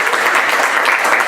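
Audience at a library poetry reading applauds, a short, dense burst of steady clapping from a small indoor crowd.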